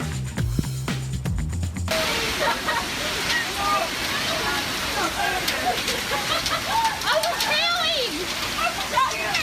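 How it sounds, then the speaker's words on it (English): Heavy rain pours down in a steady, loud, dense hiss that starts abruptly and keeps going, with people talking over the downpour. "Wow, it's raining really bad."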